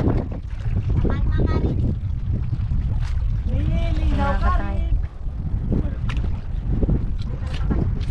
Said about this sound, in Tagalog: ngayon medyo naghangin-hangin na naman